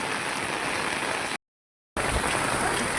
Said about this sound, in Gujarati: ભયંકર વરસાદ આવી ગયો છે અમારા ગામમાં